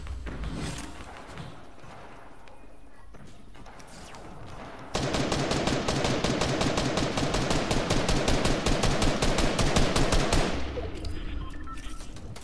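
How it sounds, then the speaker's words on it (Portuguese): Rapid automatic gunfire in Fortnite rattles continuously for several seconds, loud and close, with scattered single shots before and after the burst. "Dá tiro, dá tiro de cima"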